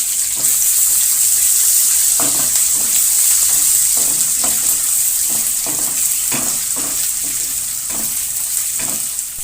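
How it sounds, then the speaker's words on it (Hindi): Garlic ginger paste frying in a pan, a loud continuous sizzle with repeated scraping strokes of a spoon stirring it at a steady rhythm, close and alone without talk. "तो अब इसमें मैं लहसुन अदरक का ये पेस्ट डाल दूँगी। चम्मच चला लेंगे थोड़ा सा इसको।"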